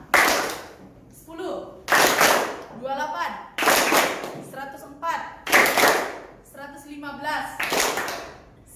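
Students clap in a classroom number-parity game, bursts of one or two quick hand claps alternating with a teacher's voice calling out numbers, close and loud.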